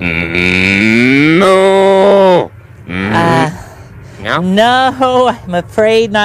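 A person imitates a cow with long, drawn-out moos, one sustained low moo followed by a few shorter ones, with brief talk between them.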